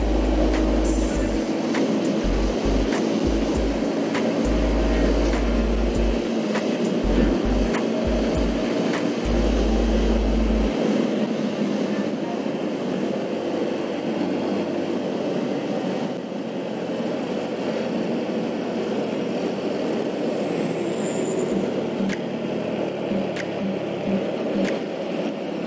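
Motorcycle engine droning steadily on a road trip into Bima, Indonesia, heard from the rider's position with heavy wind rumble early on, then a smoother sustained hum for the rest.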